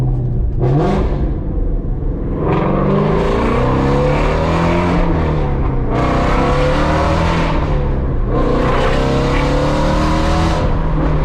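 A Ford Mustang GT350's exhaust with catless midpipes roars loudly and continuously, revving up and down in repeated surges with a raspy, aggressive tone and no talking.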